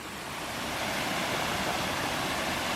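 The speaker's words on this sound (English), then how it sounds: "And we come across a cool waterfall." A waterfall pours on a creek trail, a steady broadband rushing roar that fills the whole clip evenly, loud and close, with no voices.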